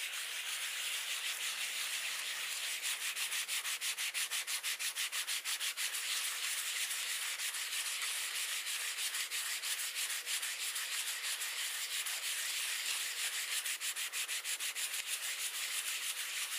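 Sandpaper rubs steadily back and forth along a wooden guitar neck during a setup and repair job, making a dense, continuous scratchy hiss with a faint stroke rhythm, close and fairly loud, with no voices.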